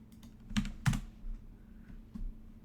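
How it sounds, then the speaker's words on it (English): Typing on a computer keyboard while coding a text adventure game: a few sharp, close key clicks in an irregular rhythm with short pauses between them, quiet room, no voice. "choose an exit by typing its number"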